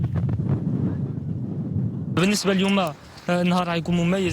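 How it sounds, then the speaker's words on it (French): Strong wind over the Mediterranean Sea as rowing boats head out, buffeting the microphone with a rough, gusty roar for about two seconds before a narrator's voice takes over. "nous avons la chance d'avoir un vent fort"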